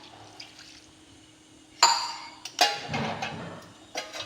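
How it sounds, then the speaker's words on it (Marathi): A glass of water is poured into vegetables cooking in a turmeric and red chili tempering for a Maharashtrian janata bhaji, giving two sudden splashing, sizzling bursts followed by a fading bubbling hiss and a final soft splash. "हे आता 1 ग्लास पाणी टाकते शिजायला."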